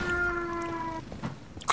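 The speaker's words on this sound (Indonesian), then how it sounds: "kucing birahi" A cat in heat gives a brief, close yowl with a steady, drawn-out tone that breaks into rougher scraps of noise.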